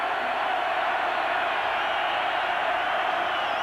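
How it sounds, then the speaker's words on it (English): A large football crowd roars at Memorial Stadium during a 1991 college game between Washington and Nebraska, a dense, loud, sustained roar that holds steady without a break. "Crowd roaring at Memorial Stadium."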